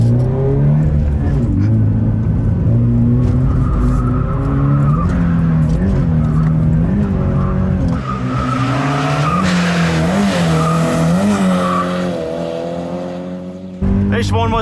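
A stock Toyota GT86 with a 150 horsepower boxer engine is pushed hard while drifting: the engine holds a strained, high rev as the tires squeal and skid for a long stretch, then the note drops away near the end.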